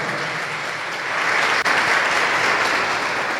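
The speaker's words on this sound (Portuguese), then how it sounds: "Vamos aplaudir o Senhor Jesus bem forte" A church congregation at the Igreja Internacional da Graça de Deus claps loudly and steadily, a thick, even roar of many hands that holds across the whole stretch with a brief dip in the middle.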